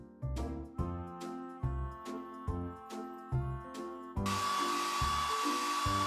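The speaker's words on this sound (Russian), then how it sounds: "Коснись фена, чтобы высушить щенку-шерстку." A cartoon hair dryer blows a steady airy whoosh to dry a puppy's fur in a Paw Patrol mobile game, starting partway through after a bouncy plucked music loop that keeps playing underneath.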